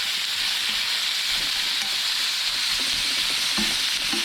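Pre-sliced mushrooms stirred around in a frying pan, sizzling steadily and loudly up close, with intermittent scraping and stirring knocks through the continuous frying hiss.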